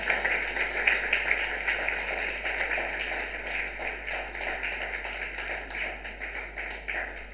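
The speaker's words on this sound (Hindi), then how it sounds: "ताली बजाएं इन सब के लिए" Church congregation clapping together at a Christmas Sunday service, a sustained patter of many hands in a steady, moderately loud rhythm that carries on for several seconds.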